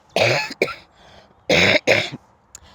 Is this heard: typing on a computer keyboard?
no